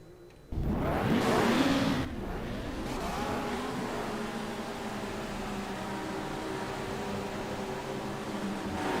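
Touring race cars launch from the grid at the start of a race at Oran Park, a loud surge of engines revving hard at first, then settling into a sustained roar of multiple cars pulling away.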